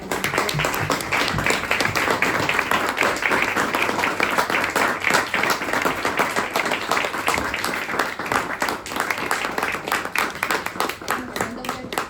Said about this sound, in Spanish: Un aplauso para Angélica.